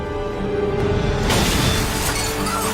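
A sudden explosion in a Captain America movie scene, a dense roaring blast with shattering debris that swells midway and rumbles on under a constant sustained background.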